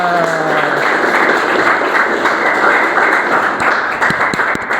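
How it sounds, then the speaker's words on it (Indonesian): Loud, dense clapping from a crowd fills the whole stretch, steady and continuous with scattered sharper claps standing out near the end. "Tepuk tangan buat kita semua."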